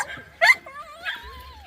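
Puppies from a litter of six give high thin whimpers and a short sharp yip, with a drawn-out whining cry near the end, close by and fairly soft.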